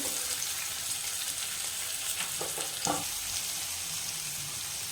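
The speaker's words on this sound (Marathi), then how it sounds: "बारीक, तोही घालून घेते आणि परतून घेते" Chopped tomato added to sautéed onion sizzles steadily in a pan while dal khichdi is prepared, with a few brief stirring scrapes near the end and no talk.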